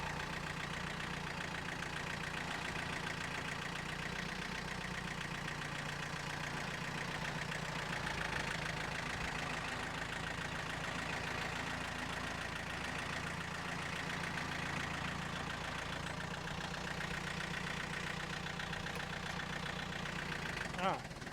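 Tractor engine laboring at low gear while crossing a ditch on a rural property during firewood work, a steady continuous rumble with a brief louder jolt near the end.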